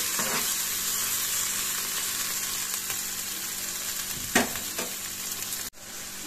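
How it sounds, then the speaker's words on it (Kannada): Byadgi chillies frying in a pan for a vegetable kurma, a steady close sizzle with a couple of brief stirring clinks near the end, no talk. "ಬ್ಯಾಡಗಿ ಮೆಣಸು ಸೇರಿಸ್ತಾ ಇದ್ದೇನೆ. ಸ್ವಲ್ಪ ಇದು ಫ್ರೈ ಆಗಲಿ"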